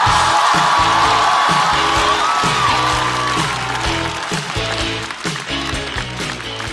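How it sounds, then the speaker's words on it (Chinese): A stand-up comedy audience applauds a comedian taking the stage, steady loud clapping mixed with cheers and whoops that eases off slightly toward the end. "小帕休息，掌声欢迎雪冰"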